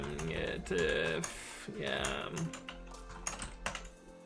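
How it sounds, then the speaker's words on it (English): Computer keyboard typing, soft rapid key clicks mixed under a voice talking throughout. "Why is your keyboard broken?"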